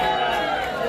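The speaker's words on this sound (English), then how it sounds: "Listen to that crowd, bro." A crowd at a political event reacts with a dense, steady wash of many voices, loud and close, holding at an even level for under a second with no single voice standing out.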